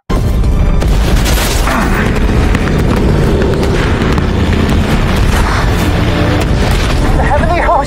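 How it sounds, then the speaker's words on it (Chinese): Anti-aircraft flak bursts around a formation of World War II bombers in the TV series Masters of the Air, with loud, dense booms and rumbling engines filling the scene without pause. "高射炮在飞机四周爆炸弹片乱飞。"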